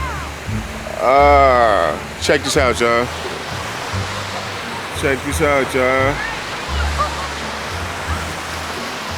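Rushing river water flows along the River Walk in Reno in winter, a constant broad roar close by while someone speaks excitedly over it in short bursts.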